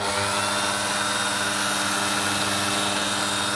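A Soviet-era Komunaras PS-2a machine running at its lowest speed while set up to work a Sprinter leaf spring gives off a steady, even mechanical whir and hiss, alone and unbroken.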